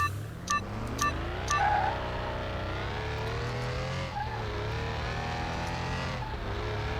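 A drag car in Car Mechanic Simulator 2021 accelerates hard down the dragstrip, engine revving up through gear changes with rising, steady roar, close and loud, with a few short beeps early on.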